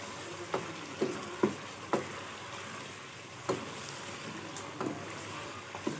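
Food cooks with spices in a pan at a home family dinner preparation, a quiet steady sizzle marked by a handful of sharp spatula taps and scrapes at irregular intervals, close by with no talking.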